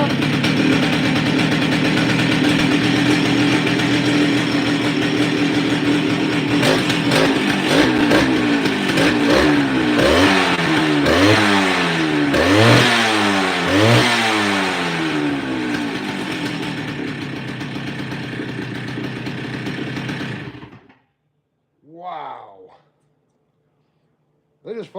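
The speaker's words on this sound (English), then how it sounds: "They just fired right up and idled" Old Stihl chop saws rumble close and loud with a two-stroke engine, holding an uneven idle with a few wavering revs before cutting out abruptly, followed by a brief clattering sound and then silence.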